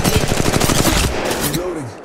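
Rapid automatic gunfire in the mobile shooter game Apex Legends Mobile; a loud, dense burst of shots that fades out, with a brief voice near the end.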